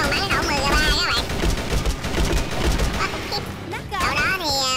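A teammate fires an M3 gun in a shooting video game, a loud, dense fusillade of shots carrying on for several seconds under a voice.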